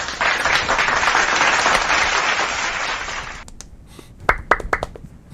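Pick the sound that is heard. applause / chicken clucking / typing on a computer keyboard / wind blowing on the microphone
applause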